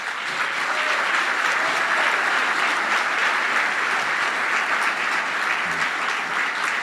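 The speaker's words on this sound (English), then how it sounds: "I want you all to give a fine round of applause for the President and CEO of Career Source Broward" An audience at a jazz gala awards event gives an honoree a loud, sustained round of applause, a dense wall of clapping that holds evenly throughout.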